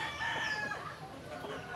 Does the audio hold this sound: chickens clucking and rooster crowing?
yes